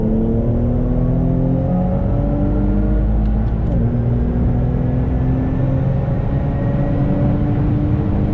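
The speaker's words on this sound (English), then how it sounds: "3rd gear pull." An Infiniti Q50/Q60 running flex fuel makes a third gear pull: a loud, continuous engine drone whose pitch climbs steadily as it accelerates, with heavy rumble throughout and no speech.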